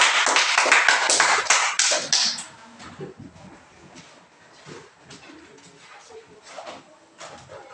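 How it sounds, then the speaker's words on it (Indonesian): A school class claps for a student group, a burst of dense loud applause in the first couple of seconds that then thins to scattered claps and murmuring voices. "silakan duduk dan tepuk tangan terus untuk kelompok"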